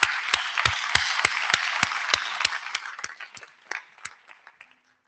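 Audience applause at an IETF 121 conference plenary, dense clapping from a large crowd that holds steady and then thins out to a few scattered claps before fading.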